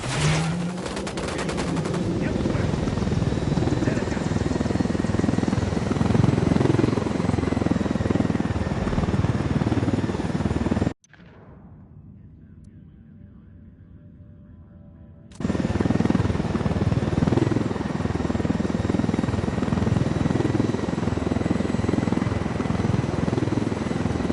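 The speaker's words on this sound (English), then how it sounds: "Rebels need supplies badly, and that chopper's got them." Helicopter in the video game Ghost Recon Wildlands, a loud steady rotor drone with bursts of gunfire over it, cutting out briefly in the middle before returning just as loud.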